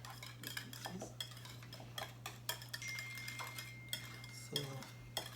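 Whisk clinking and scraping in a bowl while creamy coleslaw dressing is mixed for homemade fish and chips with tartar sauce, a run of quick metallic ticks and stirring sounds, close and fairly quiet, with a low steady hum behind.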